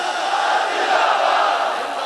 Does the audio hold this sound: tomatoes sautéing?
no